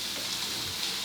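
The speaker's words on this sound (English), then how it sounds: "Get back to work and keep stirring" Food sizzles in a frying pan while being stirred, a steady, close hiss that holds even throughout the short moment with no talk.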